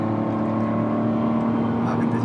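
Kia Ray light car engine droning under acceleration with a steady, rising hum heard from inside the cabin, loud and continuous, with talk over it.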